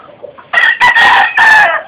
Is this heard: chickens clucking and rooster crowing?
yes